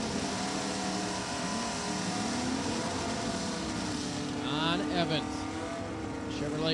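A big block COPO Camaro in Stock class leaves the line on a drag strip at Virginia Motorsports Park during an NHRA Lucas Oil series event, its engine a loud, sustained roar while an announcer talks over it.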